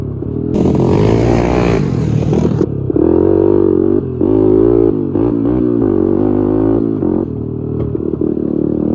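Old Honda 250X motorcycle engine running loud and close on a test ride, revving and climbing in pitch with throttle changes, dipping briefly between gear shifts and settling into a steady drone, with no talk.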